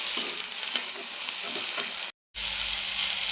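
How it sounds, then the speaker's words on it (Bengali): Kochur loti, wild taro stolons, frying in a pan, a steady bright sizzle with faint stirring clicks, briefly cut to silence before the frying resumes. "এবার লতিটা ভেজে নেব"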